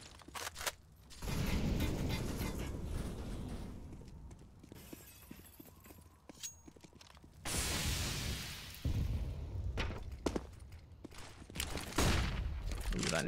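A grenade going off in a Counter-Strike match on the map Nuke, amid bursts of gunfire and explosive booms, with a loud blast around the middle and rapid shots scattered through the rest.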